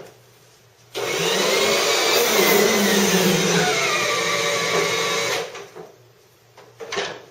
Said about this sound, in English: I'm just going to turn on the brushes and drive the machine off the tray.